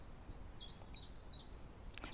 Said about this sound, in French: on entend le bruit, le chant des oiseaux